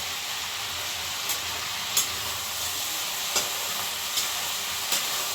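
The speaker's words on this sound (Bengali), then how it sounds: "এখন করছি আলু পেঁয়াজ কলি কড়াইশুঁটি দিয়ে ভাজা।" Potatoes, onions, cauliflower and peas frying in a pan give a steady hissing sizzle, with occasional sharp scraping clicks from stirring, close and moderately loud.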